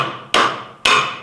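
Two sharp, loud metallic hammer blows strike the cutter shaft of a woodworking jointer planer, each ringing briefly before fading, spaced about half a second apart.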